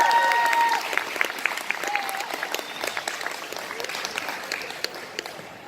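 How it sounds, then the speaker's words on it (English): At a cosplay competition, an audience applauds the final contestant with loud, dense clapping that starts strong and gradually thins, with a few whistles and cheers mixed in. "Round of applause, guys, for our final entrant."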